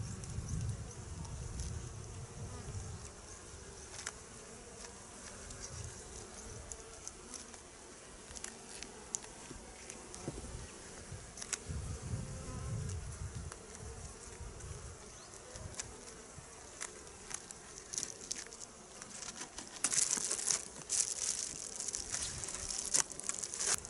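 Bees buzz around an open beehive, a continuous faint insect drone with small rustles and ticks throughout, no voices.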